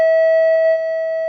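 A bell sound effect rings as a steady sustained electronic tone with even overtones, loud and clear, holding for about a second with no talk.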